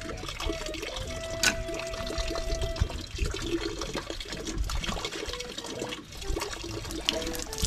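Water flowing from a deep well pipe rigged for pressure without a motor pump in Mindanao, a steady splashing, trickling stream that runs continuously and fairly close, with faint voices now and then.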